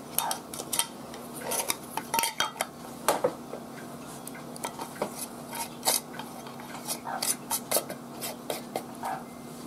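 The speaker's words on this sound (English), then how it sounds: "now we're putting the lids on. You just finger tighten them" Metal lids being finger-tightened onto glass jars of homemade dandelion jelly, a string of light clinking and ticking taps scattered irregularly throughout, fairly close and moderately quiet over a faint steady hum.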